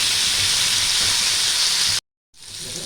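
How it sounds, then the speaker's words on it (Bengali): Long beans and other vegetables with salt hiss and sizzle loudly in a pan for a steady stretch, cut by a brief silence before the frying sound resumes. "আর একটু ভেজে নেবো আমি।"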